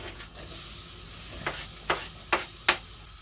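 Wild leaves stir-fried with garlic in a pan, a soft steady sizzle punctuated by four sharp spatula scrapes toward the end, spaced roughly half a second apart, with no talking.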